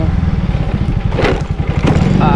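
A motorcycle engine running close and loud, with a steady, rough, throbbing idle that holds throughout, with no talk over it.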